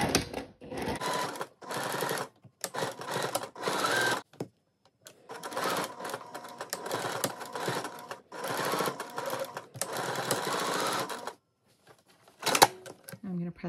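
A sewing machine stitching the lining of a floral sundress, running in several bursts of rapid mechanical whirring and clatter separated by brief pauses, close and clear, with a sharp click near the end.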